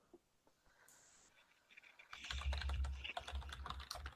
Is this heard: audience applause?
no